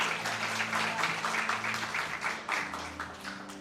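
A church congregation applauds during a sermon, a lively burst of clapping that slowly thins toward the end over a faint sustained tone.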